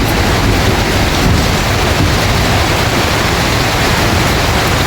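Dense, steady roaring hiss of heavy rain and hail pouring down in a storm, loud and unbroken throughout.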